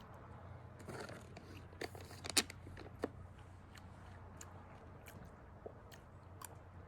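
Someone chews a bite of sweet brown-sugar pork with rice and beans at a campsite, with soft, close mouth sounds and a few crunchy clicks over a low steady hum.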